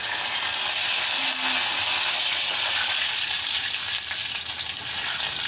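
Chana dal, broken dry red chillies and curry leaves sizzle steadily in hot oil as a tempering for a bottle gourd chutney, a loud continuous frying hiss with occasional stirring and no voices.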